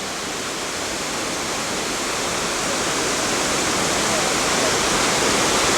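A waterfall pours down beside a canyon wall into a little pond, giving a loud, steady, unbroken rush of water with no talking.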